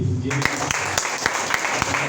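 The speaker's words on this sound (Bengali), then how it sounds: "মিজান সাহেবকে একটা করতালি দিই" A crowd claps for Mizan Saheb at a Sonali Life Insurance branch meeting in Eidgaon Metro: a dense, steady patter of applause with sharp individual claps, starting just after a short spoken word and continuing under a speaking voice.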